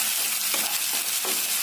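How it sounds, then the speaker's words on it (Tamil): Onions sauté in hot oil in a pan, a continuous close sizzle broken by a few scraping stirs. "நல்லா இந்த எண்ணெயில வதக்கி விடலாங்க"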